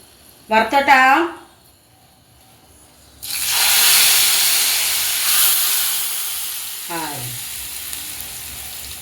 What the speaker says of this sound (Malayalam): അത് നല്ലോണം ഒരു 1/4 ടേബിൾ സ്പൂൺ വെളിച്ചെണ്ണയിൽ വറുത്തോട്ടാം